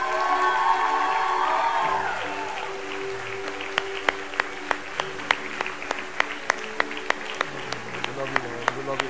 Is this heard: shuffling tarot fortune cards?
no